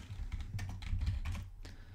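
Keys clatter steadily on a computer keyboard as a short cd command is typed to change into a project folder, the clicks close and distinct in an otherwise quiet room with no voices.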